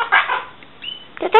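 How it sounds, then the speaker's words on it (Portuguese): Pet birds kept at home give a few short clucking calls up close, two brief bursts separated by a quiet pause, with a faint thin chirp between them. "Estes são os meus outros passarinhos."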